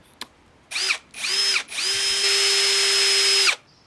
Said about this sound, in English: I'm drilling some pilot holes